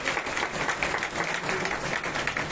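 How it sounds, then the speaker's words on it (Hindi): Steady applause fills a crowded devotional gathering at a Bhagwat Katha, a dense, continuous wash of clapping with no breaks, fairly close and even in loudness. "आप इनके लिए ताली बजाइए"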